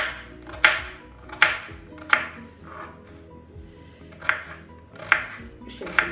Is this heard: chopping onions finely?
yes